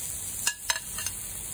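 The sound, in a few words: eggplant sizzling on the grill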